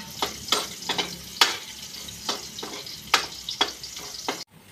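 Garlic sautéing in a pan gives a continuous sizzle broken by repeated sharp scraping strokes of a utensil stirring, roughly every half second, before the sound cuts off abruptly near the end.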